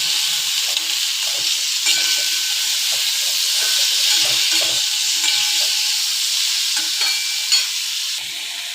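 Vegetables sautéed with turmeric and salt in a hot pan give a steady, close sizzling hiss throughout, with occasional soft scrapes of stirring.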